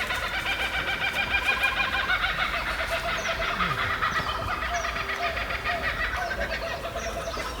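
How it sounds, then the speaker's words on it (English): A dense chorus of kookaburras calls in rapid, cackling bursts, layered over a constant outdoor background by a river in the suburb of Fairfield, Australia. "and you can hear some kookaburras."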